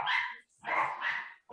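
Several dogs, one an Australian Shepherd, bark in loud, close bursts at home, two or three sharp volleys with brief gaps between them.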